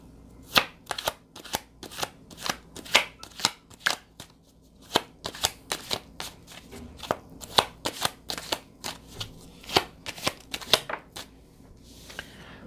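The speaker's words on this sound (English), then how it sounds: "Let's pull some cards on karmic lessons." Tarot cards are shuffled and pulled in quick succession, giving a long series of crisp, close riffling snaps, about two per second, repeating steadily with brief pauses and no talk.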